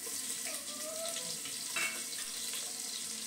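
Onion fries in ghee and a little butter in a pan, giving a soft, steady sizzle with faint crackles and a stirring scrape, heard quietly with no talking.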